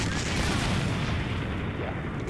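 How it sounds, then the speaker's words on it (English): Artillery shell explosions in the World of Tanks video game, a dense rumbling barrage of booms blended with a continuous low roar, loud and sustained with no clear gaps. "Yeah, explosions."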